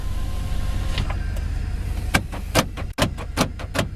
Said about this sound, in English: Power windows work good.